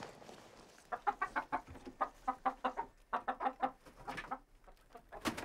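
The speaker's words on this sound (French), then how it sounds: "Voilà les poules de Roland" Hens cluck in a steady, rhythmic series of short calls, fairly close, over faint background noise.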